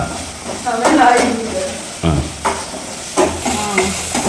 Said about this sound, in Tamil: இந்த பக்கம் குடலே வறுக்குது, அந்த பக்கம் அந்த குடல், கோழி குடல்.